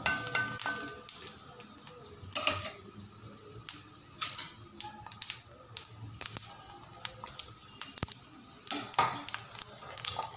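Dried chilies, fennel and cumin frying in hot oil, a crackling sizzle broken by frequent sharp pops and spoon clatters against the pan, close and fairly loud.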